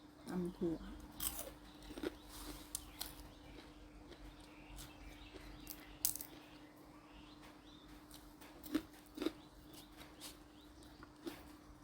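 A person eats a lunch of rice with papaya salad, making close crunching and chewing sounds in scattered bursts over quiet background noise.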